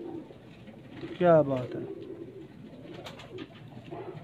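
A breeder pigeon held in the hand on a Punjab rooftop gives one short, throaty coo, close and loud, while people talk around it.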